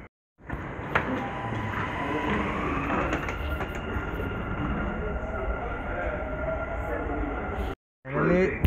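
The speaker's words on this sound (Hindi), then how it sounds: "हमारे आते ही मेट्रो आ गई" A Dubai Metro train pulls into the station with a loud, sustained rolling roar and whine that holds steady for several seconds, then cuts off abruptly before a short burst of station noise, with voices faintly in the background.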